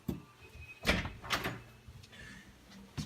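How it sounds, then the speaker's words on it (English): A brand-new fireproof door in a freshly renovated apartment opens or closes with a few thuds and latch clicks close by, with a short creak near the end and no talking. "We even started with the doors, brand new doors, fireproof doors."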